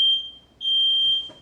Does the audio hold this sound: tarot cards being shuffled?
no